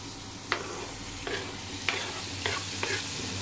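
Bacon lardons sizzle in a pan, frying steadily as they are stirred and tossed with cut chanterelles for an omelette, with five distinct scraping strokes spaced through the continuous crackle.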